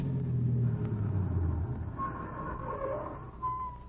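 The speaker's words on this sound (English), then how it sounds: "That car. Yes, I heard it." A car approaches outside at night, a low engine rumble that slowly swells and then holds, heard at a distance under quiet room tone.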